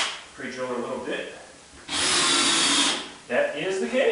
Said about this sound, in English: Pre-drill a little bit.